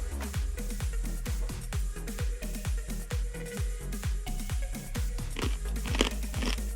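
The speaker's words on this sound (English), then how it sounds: "as you can hear, they're really crunchy" Homemade pork scratchings being bitten and chewed close up, a steady run of sharp crunches repeating about twice a second over a constant low background hum.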